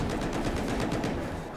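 Vehicle gunfire in Battlefield 4 hammers out a fast, steady automatic stream, loud and continuous for the whole short burst, with no talking.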